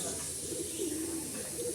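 Pigeons coo softly in low, burbling murmurs against a steady background hiss, with the calls faint and continuous over the short stretch.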